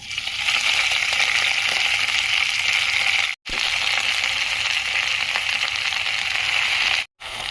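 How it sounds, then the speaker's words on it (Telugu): Gongura leaves frying in about two spoons of oil in a pan, a steady, close, dense sizzle that runs throughout and is broken by two brief cuts to silence. "ఇప్పుడు గోంగూర వేపే వేపుకుందాము ఆయిల్ వేసుకుందండి రెండు స్పూన్లు"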